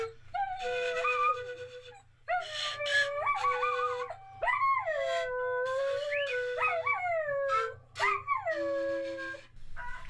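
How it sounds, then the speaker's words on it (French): A dog howls along with musical instruments in a rising and falling series of long wavering cries and yips, loud and close, with a low rhythmic accompaniment beneath. "now we got musical instruments and the dog singing."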